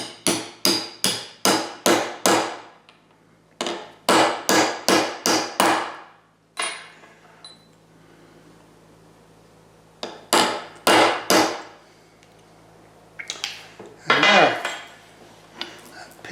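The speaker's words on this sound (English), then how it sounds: "I've got to do some tappy-tappy with the hammer" Sharp metallic hammer taps driving a steel pin into a lathe tailstock locking cam, close and loud, coming in quick bursts of five or six strikes separated by short pauses, with no talking.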